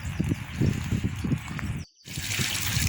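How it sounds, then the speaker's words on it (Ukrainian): Water trickles steadily into a newly lined backyard pond as it is first filled, a close, continuous babbling flow that cuts out briefly before resuming. "Перші літри води."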